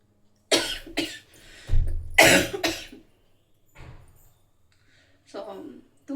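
A person with a cold and sore throat coughs several times in short, close, harsh bursts indoors, separated by quiet pauses, with a little throat clearing near the end.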